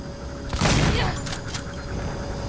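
A shotgun blast in the sci-fi horror game Alien Isolation: one loud, booming close-range shot with a long rumbling tail, a few sharper crackles following as it fades.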